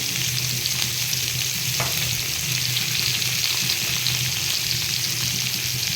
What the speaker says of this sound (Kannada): ಇದನ್ನ ಚೆನ್ನಾಗಿ ಫ್ರೈ ಮಾಡ್ಕೊತೀನಿ. ಹಸಿ ಸ್ಮೆಲ್ಲೆಲ್ಲ ಹೋಗೋವರೆಗೂ ಇಟ್ಕೊತೀನಿ.